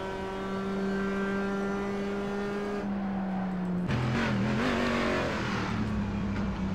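Corvette race car engine revving hard from onboard at Sonoma Raceway during a multi-class race, a steady high drone that drops and shifts pitch through gear changes and braking, loud and continuous.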